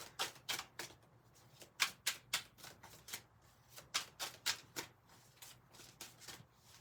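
A deck of tarot cards is riffle-shuffled repeatedly, producing quick rhythmic bursts of crisp flapping in close succession, about a dozen sharp riffles with brief pauses between.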